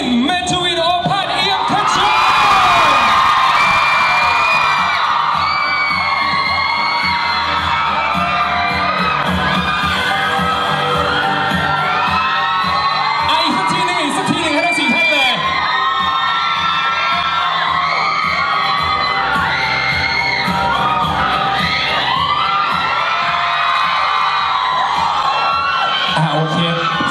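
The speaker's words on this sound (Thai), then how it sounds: "ขอเสียงปรบมือต้อนรับวินเมทวินอภัทร" An audience at a film promotion event greets an actor on stage with loud cheering, whoops and high-pitched screams that swell early and continue throughout, while an announcer's amplified voice carries over the crowd.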